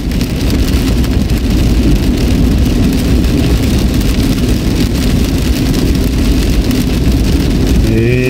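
Heavy rain pounds steadily on a car climbing a bridge, a dense, loud, unbroken roar of drops with road noise beneath.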